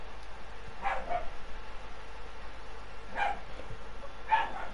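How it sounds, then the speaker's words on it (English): A dog barks a few times in short, separated bursts, fairly faint against a steady background hum, with nobody talking over it. "What are you barking at?"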